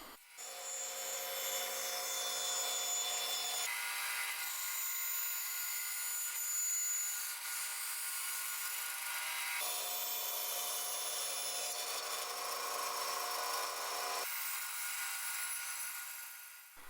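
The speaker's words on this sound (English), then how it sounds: "Now I'm cutting it out on the bandsaw." A bandsaw fitted with a thick resawing blade cuts a wooden prop sword for a Zelda Kokiri Sword cosplay build, giving a steady, loud, rasping whine that shifts in tone as the cut progresses across several passes, with no talking.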